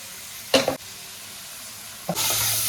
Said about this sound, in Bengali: আমি চিংড়ি মাছটা ভেজে নেবো